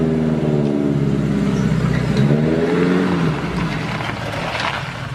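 A motorcycle engine on a comedy film set revs up and holds a loud, steady mid-pitched drone, rising in pitch briefly before settling back, close to the microphone with no voices.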